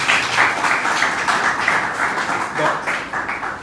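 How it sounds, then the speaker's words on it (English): A lecture audience welcomes a researcher with a round of applause, a continuous wash of clapping filling the room at a steady moderate level throughout. "So let's welcome him with a round of applause."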